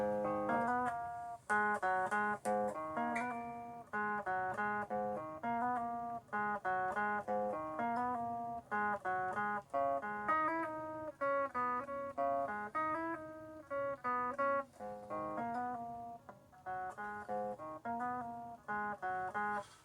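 Quintal chords on a keyboard-like instrument sliding upward in short repeated phrases, played steadily throughout with brief gaps, no voices.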